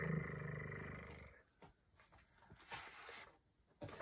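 A voice imitates a cat's purr with a short, rolling low 'brr' while reading a children's picture book aloud. The imitation is brief and fairly close at the start, followed by quiet room sounds.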